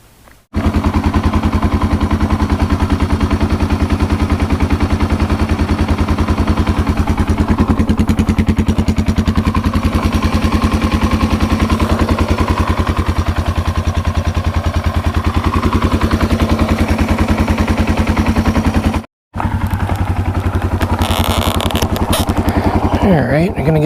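A small engine test-run after fitting a new, quieter exhaust, running loud and continuous with a rough, pulsing idle for about twenty seconds, cut by a brief dropout near the end.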